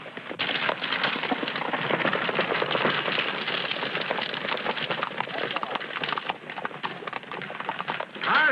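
Horse hooves clip-clop in a rapid, continuous rhythm on an old western film soundtrack, a dense, narrow-band clatter that stays fairly loud from start to finish with no speech over it.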